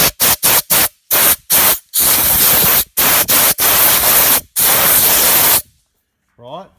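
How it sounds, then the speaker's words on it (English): Compressed air blasted in a series of loud hissing bursts during maintenance work, short rapid spurts followed by several longer sustained blasts, then silence and a brief voice at the end. "I happen to have a compressed air right at the end here."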